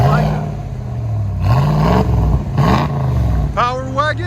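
A 2022 RAM Power Wagon with a 6.4L HEMI V8 and a muffler delete revs in a few deep, loud throttle blips that rise and fall, with a person talking over the rumble at the end.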